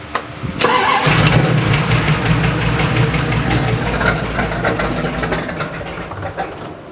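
A cold stroker engine on a Holley carburetor catches and settles into a low, rough idle, loud and close, with an uneven knocking pulse running steadily throughout.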